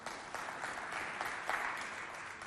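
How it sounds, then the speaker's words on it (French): Sustained applause from a festival show audience clapping for the technicians, a dense steady patter of many hands with a few louder bursts, continuous and moderately loud throughout. "Applaudissez très fort pour eux."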